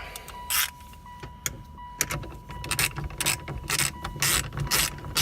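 A ratchet clicks in quick repeated bursts while tightening the steering wheel center bolt on a 2001 Mitsubishi Mirage, close and crisp, with short pauses and light mechanical handling noise between strokes.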